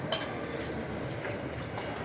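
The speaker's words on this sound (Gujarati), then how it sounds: "પછી આપણે એને હલાવીશું જ્યાં સુધી ખાંડ ના ઓગળી જાય ત્યાં" A spoon stirs sugar in a pot until it dissolves, giving a steady scraping swish with a light metallic clink near the beginning.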